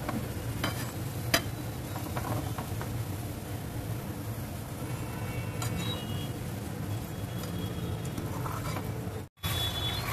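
Onions fry and brown in a pan for a whole masoor pulao, giving a steady, close hiss of sizzling oil with a few spoon clinks and stirs. It breaks briefly near the end, and no one speaks.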